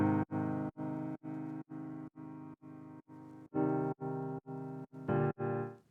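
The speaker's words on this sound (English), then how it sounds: "To make the piano sound warmer, I added the RC20 vintage emulation." Piano run through the RC20 vintage emulation effect plays repeated chords in a steady rhythm, each one sharply chopped with short gaps between, giving a warm, slightly degraded tone at low volume.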